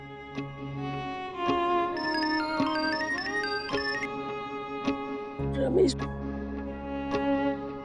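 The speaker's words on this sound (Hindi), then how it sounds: "रमेश भैया का फोन है।" A melodic electronic phone ringtone plays, a bright tune of stepped tones, fairly steady, with a brief rustle partway through.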